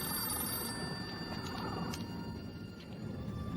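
A telephone rings continuously in Doctor Who, a faint, steady electronic tone held under a hissy background with no talk over it.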